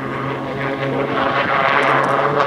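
An Extra 300L aerobatic propeller plane flying a display at an air show, its steady, loud engine drone and propeller buzz holding throughout and swelling slightly as it passes.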